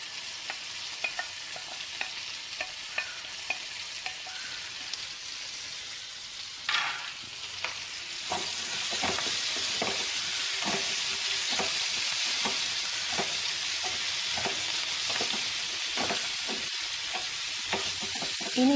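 Chilli prawns frying in a pan while being stirred: a steady hiss that swells to a louder sizzle partway through, with repeated scraping clatters of the spoon, no voices.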